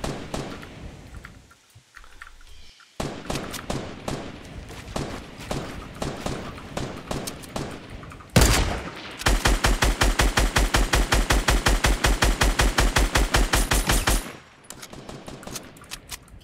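Gunfire in Fortnite Duos on the Scorched Earth mode: loud bursts of rapid automatic fire, a sharp heavy blast, then a long unbroken stream of fast shots before fading, close and dominant throughout.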